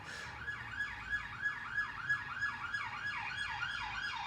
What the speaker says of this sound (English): I don't know how clearly you can hear the sirens